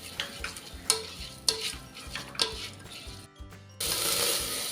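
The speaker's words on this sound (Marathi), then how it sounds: "आता हे तांदूळ आहेत ना तुपावर एक दोन मिनिटासाठी आपल्याला परतवून घ्यायचं आहे" Rice is being stirred in ghee in a cooker, with a spoon scraping and clinking against the metal pot in a steady rhythm over a soft sizzle, close up and with no voice.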